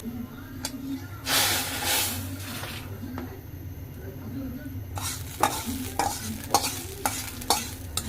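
Onion frying in hot oil, a close hissing sizzle that swells in a loud burst, then settles under repeated scraping and tapping of a utensil stirring the pan.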